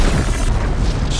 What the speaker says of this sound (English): It's a massive explosion.